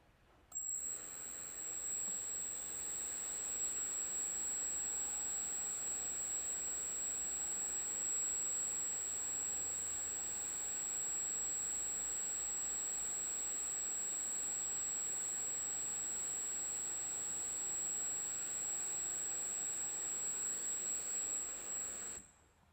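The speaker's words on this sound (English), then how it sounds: "we're going to run the EDF at the test speed and measure" An electric ducted fan running steadily at test speed for a vibration balancing check, producing a continuous high-pitched whine over a broad airy rush that holds level throughout and cuts off at the end, with no talk.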